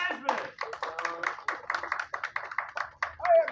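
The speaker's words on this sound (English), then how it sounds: "Everyone give a round of applause for John Gasman." An audience claps and cheers for a stand-up comedian as he is introduced, in a show in the American South. The clapping comes in quick, uneven bursts with voices mixed in, moderately loud throughout.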